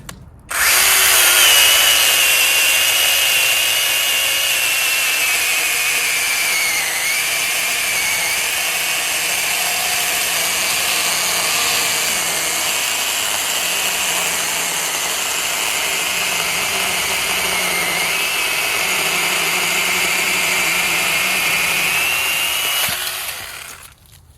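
A lithium-ion battery mini handheld chainsaw bites into raw, unseasoned wood about six inches thick, giving a loud, continuous high-pitched whine with a grinding edge. The cut holds steady for over twenty seconds, then the motor winds down and stops.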